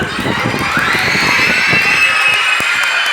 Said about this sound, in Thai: ตบมือของคนดูและก็เสียงกรี๊ด